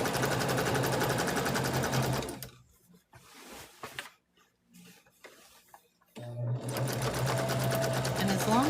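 A sewing machine runs in a steady, loud mechanical whir, stops for a few seconds of quiet handling noises, then starts again while sewing a short back stitch.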